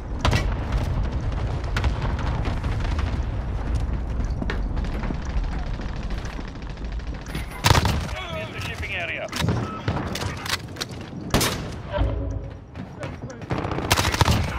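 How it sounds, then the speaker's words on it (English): A Call of Duty: Modern Warfare cluster strike rains a chain of loud explosions across an oil rig battle, mixed with heavy automatic gunfire and sharp blasts, with brief radio-style callouts breaking in between bursts. "Allied cluster strike inbound."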